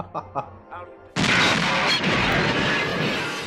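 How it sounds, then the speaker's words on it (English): An explosion in the 1985 film Brazil bursts in suddenly as a loud, broadband blast that roars and slowly fades, following a few short spoken sounds before it. "Explosion."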